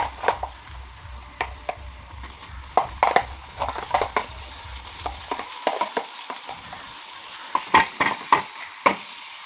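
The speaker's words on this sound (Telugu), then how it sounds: "ఆనియన్ ఫ్రై అయిన తర్వాత ఫ్రౌన్స్ వేయండి" Prawns being added to fried onions in a pan give light, scattered scraping and stirring clicks over a soft sizzle that fades out midway, fairly quiet with no voices.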